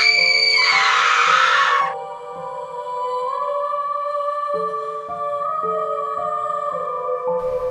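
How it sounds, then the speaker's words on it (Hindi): A woman lets out a loud, piercing scream in a Hindi horror story about a haunted school. It lasts about two seconds, then gives way to eerie sustained tones. "मेरे मुंह से एक जोरदार चीख निकल गई"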